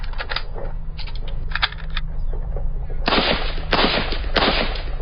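AK rifle firing: rapid automatic bursts, sharp and rattling, in several separate strings with short pauses, louder in the later bursts.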